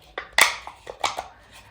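A washed metal cat food tin clanks and taps sharply a few times as it is handled, with brief close metallic knocks and quiet pauses between.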